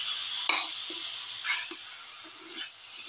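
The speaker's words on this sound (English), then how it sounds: "mixing the mutton ribs with the rest of the mixture" Mutton ribs are tossed with a spice mixture, giving soft wet squelching and scraping strokes at irregular intervals over a steady faint hiss, close up with no talk.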